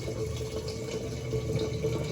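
Tap water runs steadily at close range while rice is rinsed in a home kitchen, a continuous splashing wash with no talk over it.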